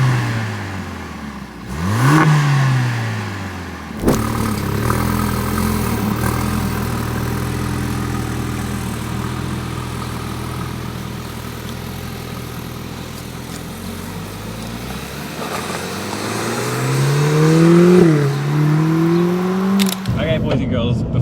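A 2025 Lotus Emira with its turbocharged four-cylinder engine pulls hard on the road, revs climbing in loud sweeping rises near the start and again toward the end, with a steady in-cabin engine drone between.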